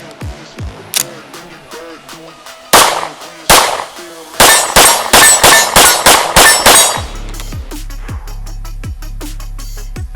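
Rapid string of about eight loud, sharp pistol shots from a Nighthawk Sandhawk after a fresh magazine is loaded, preceded by scattered metallic clicks and clangs, followed by a quieter tail.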